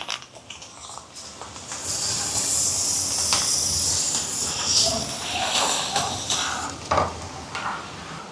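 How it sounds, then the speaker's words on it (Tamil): Steady scraping and swishing of a spoon stirring thick sago pudding in a pot, with soft bubbling and sizzling underneath and occasional clinks. "இப்போ கைவிடாமல் இப்படியே கலந்து கொண்டிருப்போம்"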